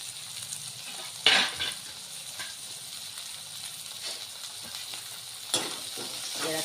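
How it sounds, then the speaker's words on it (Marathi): Onions frying in oil in a home kitchen pan, a steady close sizzle with a louder hiss and clatter as chopped tomato is dropped in, plus occasional stirring scrapes. "हे कांदे छान उगू द्यायचे तेलामध्ये हा एक टमाटर आहे हा कापून घेतलेला आहे हा यामध्ये टाकायचा आहे"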